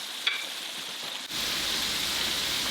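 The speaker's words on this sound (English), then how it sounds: "Carefully add the shrimp. Fry for about 2 minutes until golden and crispy." Shrimp deep-frying in peanut oil heated to 325 degrees Fahrenheit: a steady close hiss of bubbling oil that jumps louder as the shrimp go in and then stays as a dense, even sizzle.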